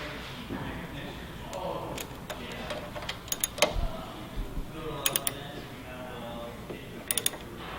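Bolts being cranked down on a motorcycle's inverted front end, heard as clicking ratchet and metallic ticks in short bursts under steady background noise, with a voice faintly present.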